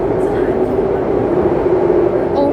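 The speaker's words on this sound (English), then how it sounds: "you guys could hear the sound of the train, right? Listen. Oh my gosh, it's so loud." Underground metro train running in Bangkok, a loud steady rumbling roar heard from inside the car, continuous and close, with someone talking over it.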